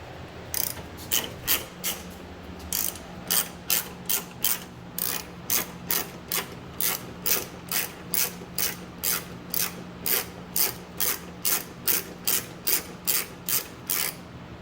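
A ratchet wrench loosens a headlight bolt on a 2014 Mazda 3, a long even run of quick clicking bursts in steady rhythm, close and clear with faint background hum and no talk.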